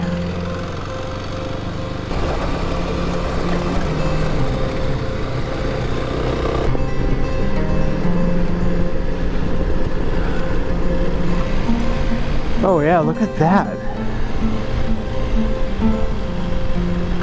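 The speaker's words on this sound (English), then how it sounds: "Water's just getting spewed out." Water spews out in a steady, loud rush across a Moroccan desert. The broad roar holds for the whole stretch, with a brief voice partway through.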